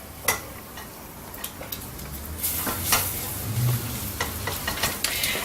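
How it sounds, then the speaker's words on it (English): Butter melting in a pan on a stovetop for a rich cheese sauce, a soft steady sizzle close by with scattered small ticks and clinks from the pan. "I'm going to use my butter and let that melt"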